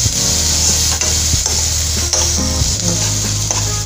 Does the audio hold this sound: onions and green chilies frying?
yes